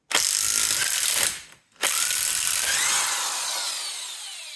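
Ratchet working loose the wheel nuts on a Bentley Mulsanne S, with left-hand threads, giving two long runs of dense, close clicking separated by a brief pause, with no talk over it.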